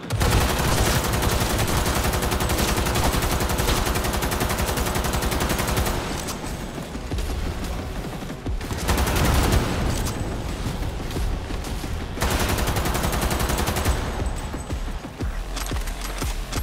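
Dense bursts of automatic gunfire from weapons in the video game Cyberpunk 2077, rapid loud rattling volleys broken by brief pauses, with occasional heavier booms mixed in.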